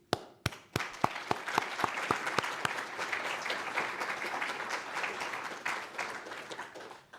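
An audience applauds at a professorship chairing ceremony, opening with a few sharp separate claps that swell into steady, moderately distant applause and then gradually thin out.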